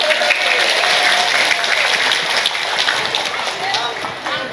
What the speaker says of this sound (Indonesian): makanya tepuk tangan kagem panitia